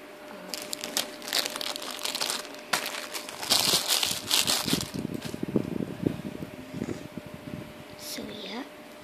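A plastic packet of scented strawberry stickers is torn and crinkled open by hand, giving a close, continuous rustle and crackle that lasts throughout, with brief sharper tearing bursts.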